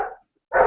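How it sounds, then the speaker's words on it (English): Two quick, sharp dog barks close by, separated by a brief silence. "I'm sorry if you can hear my dogs barking."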